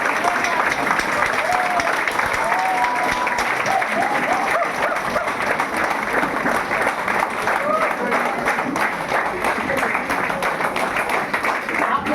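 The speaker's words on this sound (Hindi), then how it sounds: "सुमित के लिए जबरदस्त ताली" A hotel meeting audience in Ranchi keeps up loud, continuous applause, with many hands clapping in a dense wash close by, voices calling out over it and a dog barking now and then.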